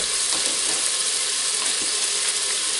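Oil sizzles steadily in a pot as a Spanish chickpea, chorizo and spinach dish starts to fry, a dense, constant crackling hiss with no talk over it.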